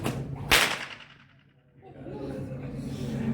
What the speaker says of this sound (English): Every time that this whip cracks, it is breaking the sound barrier.